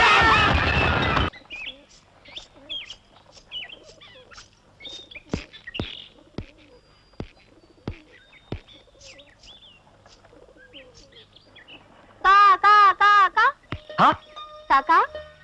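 Near the end of a comedy film scene, a crow gives a quick run of loud, harsh caws, preceded by a quiet stretch of scattered clicks and faint bird chirps.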